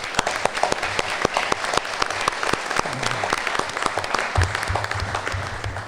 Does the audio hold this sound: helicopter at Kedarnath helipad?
no